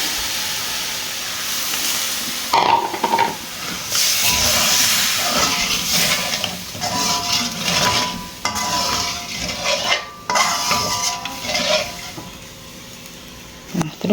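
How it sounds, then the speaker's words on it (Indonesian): Thin coconut milk is poured into frying spice paste for an Indonesian chicken dish and hisses loudly, close by, with a strong burst of steam that rises and falls in waves alongside stirring clatter from a pan. "Setelah bumbunya wangi, kita masukkan santan encernya."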